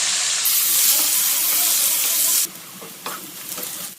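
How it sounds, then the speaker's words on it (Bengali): Chopped onion with bay leaf and whole garam masala fries in oil left from frying fish, making a loud bright sizzle that drops suddenly to a softer crackle with a few stirring knocks. "ওই তেলেই দিয়ে দিচ্ছি তেজপাতা, গোটা গরম মশলা। এবার পেঁয়াজ কুচি দিয়ে দিচ্ছি।"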